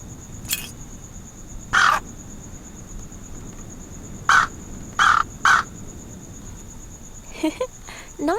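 Crow cawing on a roof in the Anna's Quest adventure game: about five short, loud caws spaced irregularly over a steady cricket-like ambience, with a faint chirping flurry near the end.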